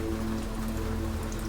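Steady rain falling and pattering on a surface, a dense continuous wash with a low rumble beneath, as a sound effect in a narrated horror story; no voice over it.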